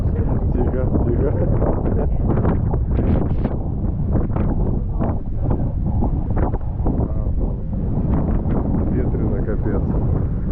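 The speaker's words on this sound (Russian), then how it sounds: "Ветрено, капец." Strong, steady wind buffets the microphone in a continuous roar, with people talking through it, at Europe's westernmost point on Portugal's Algarve coast.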